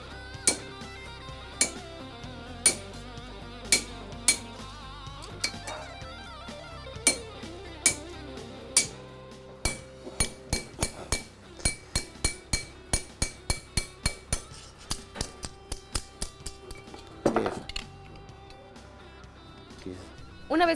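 A hammer strikes a chisel while carving a stone mosaic in Oaxaca, sharp metallic clinks spaced at first, then quickening into a rapid, steady series of close, bright taps with occasional voices.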